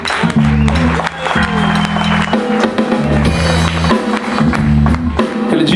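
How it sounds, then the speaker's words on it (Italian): An audience at a Christmas blues concert applauds with dense clapping and cheering, while a voice talks over it and music plays underneath throughout. "Un applauso, Franco!"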